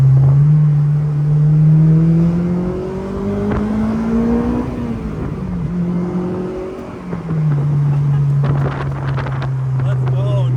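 A Honda S2000 that has just been fixed, with fresh gearbox fluid, revs and pulls through the gears. The engine note climbs, drops at each shift, then climbs again, loud and close inside the cabin with wind noise. Voices are heard briefly.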